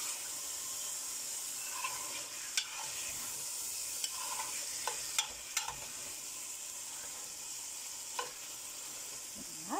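Leftover grated tomato sautéing in a pan for a lamb and potato Easter stew, giving a steady soft sizzle with occasional faint clicks of a utensil, close and alone.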